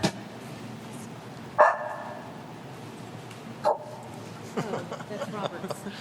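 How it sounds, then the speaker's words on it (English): A pet dog named Cap barks indoors during a workshop meeting, two sharp loud barks a couple of seconds apart, followed by people talking. "That's my dog"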